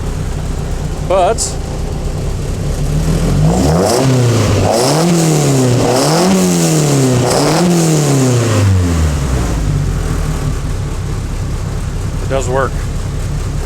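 A 2.5 Duratec engine in a Locost 7 runs cold and rough, revving up and down several times in rising and falling sweeps before settling, loud and close, with someone speaking briefly over it.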